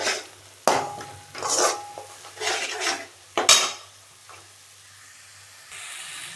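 Tomato paste and spices are sautéed in a pan for a rabbit curry, with spoon scrapes and clinks against the pan in bursts over a quiet, faint background sizzle.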